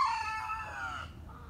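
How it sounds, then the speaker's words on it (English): Roosters crow once in a clear, drawn-out cock-a-doodle-doo, falling in pitch and tailing off, with faint clucking at the end. The sound is moderately distant and outdoors, and no one speaks over it. "These goddamn chickens always crowing when I'm trying to make a damn video."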